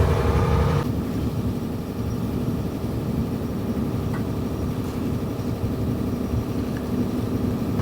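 A sailboat's engine runs steadily at constant revs with the sail set, a continuous low drone that stays even throughout after a slightly louder opening moment.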